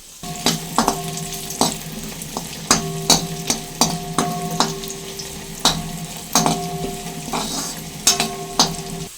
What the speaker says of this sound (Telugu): ఈ అల్లం ముక్కలను వేయించేసుకుందాం.